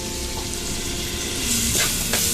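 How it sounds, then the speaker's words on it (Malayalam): Chopped onion sizzles loudly in hot oil in a pan for a steady stretch, and a few brief scraping touches come near the end. No voices are heard. "ഈ ഓയിലിലേക്ക് തന്നെ നമ്മൾ നേരത്തെ ചോപ്പ് ചെയ്ത് വെച്ചിട്ടുള്ള ഓണിയൻ ആഡ് ചെയ്ത് കൊടുക്കാം."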